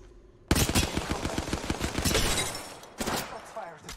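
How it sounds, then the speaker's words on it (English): Rapid bursts of automatic gunfire from weapons in the video game Apex Legends, loud and close, with dense overlapping shots through most of the stretch, a brief break, then another volley. "Shots fired at me."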